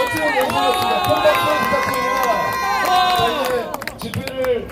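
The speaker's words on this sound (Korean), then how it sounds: "큰 박수 부탁드립니다." A large crowd at an outdoor political rally cheers and shouts together in loud, sustained voices, with a few scattered claps near the end.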